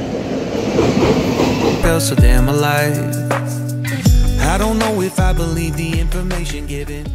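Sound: train arriving at railway station

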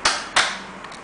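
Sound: trim piece being banged out of Wii casing

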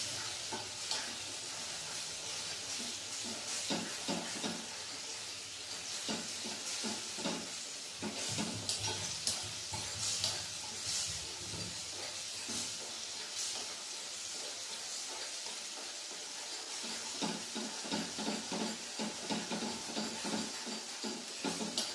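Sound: herbal paste being stirred while cooking in a pan

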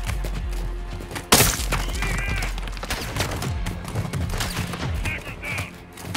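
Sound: sniper rifle gunshot in Modern Warfare 2 video game

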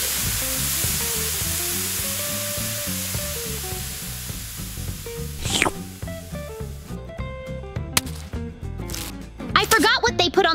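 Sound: burger patties frying in a pan

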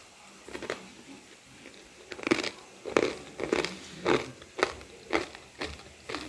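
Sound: crunching crispy homemade shoestring potato sticks

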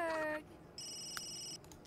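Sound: phone ringing in The Sims 3 video game

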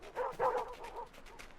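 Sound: dogs barking in the video game Endling

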